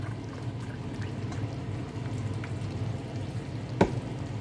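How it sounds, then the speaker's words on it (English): Beef broth poured into a pot of American goulash over a low, soft bubbling and sizzling background, with a faint clink near the end. "Beef broth ilagay natin para sarap."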